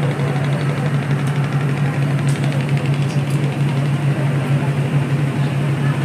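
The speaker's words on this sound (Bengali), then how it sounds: "আমাদের লঞ্চ শো শো করে এগিয়ে যাচ্ছে" Launch boat engine droning steadily on a river crossing toward Mayapur ghat, a loud continuous low hum with rumbling vibration throughout, no breaks, with faint background chatter from passengers.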